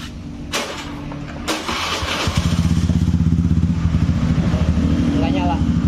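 A Honda Beat FI motorcycle engine cranks and catches partway through, then settles into a steady, close, pulsing idle, with a couple of sharp knocks before it starts.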